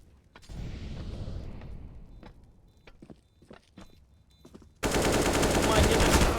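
AK rifle fire in a competitive video game match: scattered sharp shots and footstep-like clicks, then a sudden dense burst of loud rapid fire near the end.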